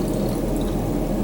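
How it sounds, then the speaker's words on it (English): Hot water pours from a beaker into bottles in a steady, loud, close rush of liquid that runs the whole brief moment without any speech. "I'm going to pour the hot water into the remaining 2"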